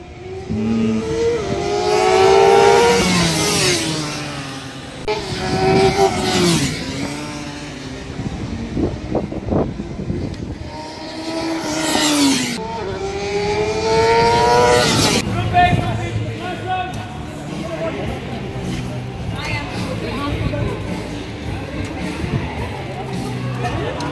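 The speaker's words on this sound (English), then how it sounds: "They're all here test riding the bikes, BMW S1000RR, XR and S1000R." BMW S1000RR, S1000XR and S1000R motorcycles ride a racetrack at a track event in Chennai, engines revving and rising in pitch as they pass in repeated loud surges, with crowd babble and talk underneath.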